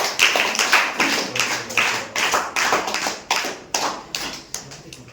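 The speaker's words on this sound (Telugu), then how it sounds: "క్లాప్స్ కొట్టండి" A group of quiz participants clapping in a rhythmic run of sharp, close claps, fairly loud and steady in tempo, with no voices over them.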